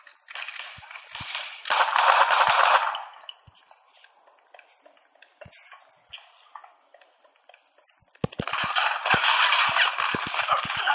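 Gunfire in the Modern Combat 5: Blackout multiplayer shooter comes in two loud bursts of rapid shots, separated by a quieter stretch of scattered sharp clicks and single pops.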